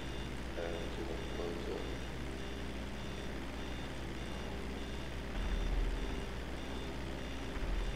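Beeping from a reversing truck in Grand Theft Auto 5, repeated and steady under a low engine rumble, fairly quiet, with a louder burst near the end.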